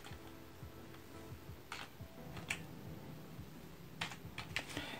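Keys clatter on a computer keyboard as a username and password are typed in, a steady run of close, fairly quiet clicks with a few sharper, louder strokes. No one speaks.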